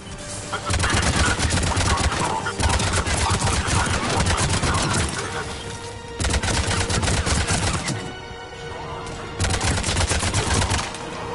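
Heavy gunfire in Mass Effect 3 combat: loud, dense bursts of automatic fire in several long volleys separated by short lulls, close and continuous.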